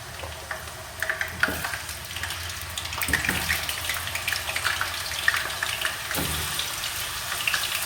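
Fresh coriander is washed under a running kitchen tap, with a steady close splash of water broken by irregular drips and handling noises as the bunch is rinsed.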